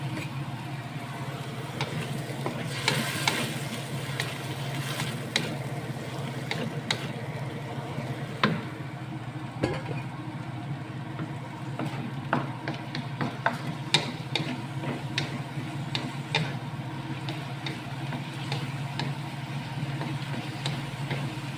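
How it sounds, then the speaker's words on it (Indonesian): Tempeh being stir-fried with sweet soy sauce after water goes into the pan, giving a low sizzle beneath repeated scraping and knocking of a utensil against the pan, with scattered sharp clacks. "Kemudian kita masukkan air ya teman-teman, supaya nanti kecapnya itu nggak gosong ya, dan nanti"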